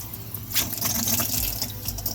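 Water gushes steadily from an RV faucet running on city water pressure, a continuous close hiss and splash with small gurgling fluctuations and no talking.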